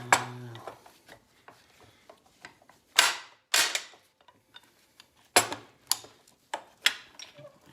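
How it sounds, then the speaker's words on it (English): A 13/16 inch box end wrench works a steering box bolt on a Cub Cadet 1863 tractor, giving a series of sharp metallic clicks and clanks, several loud close strikes among fainter ticks. "It takes a 13/16 inch box end wrench, and hopefully I can bust that loose."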